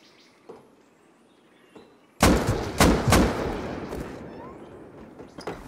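Gunfire shoots down a tower in Rust: a few quiet knocks first, then a sudden loud bang and a run of sharp, echoing shots at irregular gaps, with a softer crack near the end.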